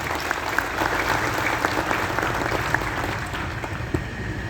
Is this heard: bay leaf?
no